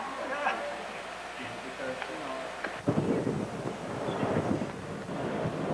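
Wind gusts outdoors, buffeting the microphone and swelling into a loud rumbling rush partway through, with voices talking faintly in the background.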